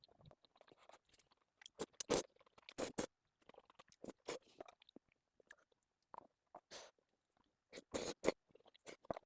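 Crisp crunching bites of fresh lettuce wraps with jokbal (Korean braised pork trotters), close and intimate, in irregular bursts of chewing separated by near-silent pauses.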